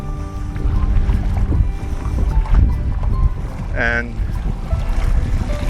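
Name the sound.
strong wind while boating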